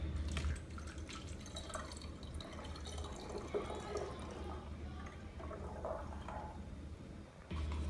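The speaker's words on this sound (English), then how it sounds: "Add 375 milliliters of purified water to glass bottle using funnel." Purified water runs through a funnel into a glass bottle, a soft continuous trickle and drip, fairly faint, over a low background hum.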